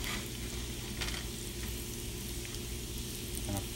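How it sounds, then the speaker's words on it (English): Garlic frying in a pan of butter and oil, a steady close sizzle with faint crackles throughout, no talking. "You want to cook the garlic until it just starts to turn a little bit brown."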